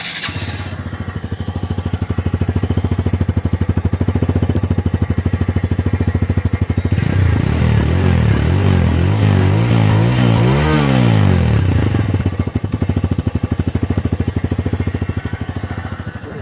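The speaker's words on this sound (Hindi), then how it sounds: "एग्जॉस्ट नोट भी इसका आपको सुनाते हैं कि अभी तक ये बाइक कैसा क्या एग्जॉस्ट नोट इसमें आ रहा है।" A well-used TVS Sport commuter motorcycle with 20,000 km on it runs steadily close by, a basic, even exhaust note, then revs up and falls back once near the middle before settling again.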